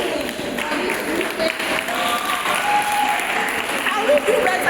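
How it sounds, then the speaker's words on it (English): Audience applause for a queen at a girls' menstrual hygiene education event, a steady wash of clapping from the gathered crowd, with voices heard amid the noise. "Can we give a round of applause to our queen?"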